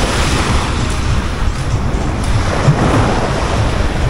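Steady roar of ocean surf washing and crashing continuously, loud and close, with a windy rumble and no talking.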